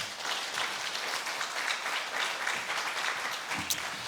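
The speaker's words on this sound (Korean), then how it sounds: "우리 박수로 목사님을 모시도록 하겠습니다." A congregation at a spring revival service claps steadily to welcome the pastor, a moderate, continuous patter of many hands.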